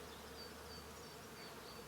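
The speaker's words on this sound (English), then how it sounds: "hopefully you can hear the bees" Bees buzz steadily around fig trees outdoors, a continuous faint droning hum with no pauses and no voices.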